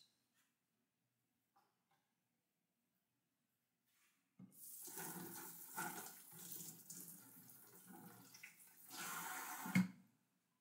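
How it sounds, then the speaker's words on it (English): Strawberries being washed under a running kitchen tap, quiet at first, then a steady splashing water stream for about six seconds with a louder clatter near the end. "I'm gonna wash a couple of strawberries."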